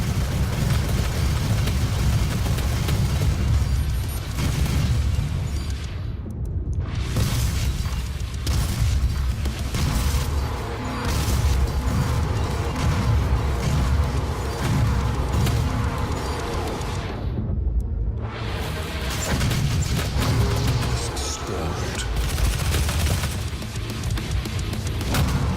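Shotgun-like blasts and booming explosions while fighting a demon in a Doom SnapMap level, dense and loud throughout with heavy low rumble and brief pauses between volleys.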